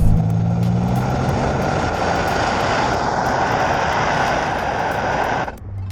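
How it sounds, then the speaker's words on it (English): A Nissan Stagea M35 wagon's turbo V6 gives a loud, steady roar with a jet-like whine under hard acceleration, holding throughout, then dropping off abruptly near the end. "When you put the hammer down on that accelerator, it sounds like a jet fighter, this thing."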